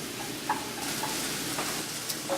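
Half an eggplant cooks in a pan, stirred now and then, with a soft continuous sizzle and a few light utensil taps over the short stretch.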